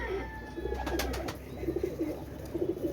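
Pakistani KTMT pigeons coo softly and repeatedly at close range, low throaty calls rolling steadily through the short stretch with no talk.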